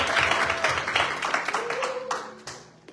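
A church congregation applauding during a worship service, a dense patter of many hands clapping that gradually thins and fades, with voices heard over it.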